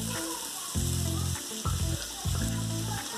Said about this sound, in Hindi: अब हम इसमें डालेंगे कटी हुई प्याज